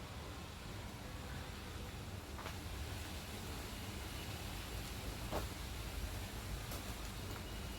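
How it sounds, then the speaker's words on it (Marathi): Rain falls in a steady, faint, even wash of broadband hiss during the monsoon, with a couple of soft brief ticks and no talk. "पाऊस पाऊस पाऊस."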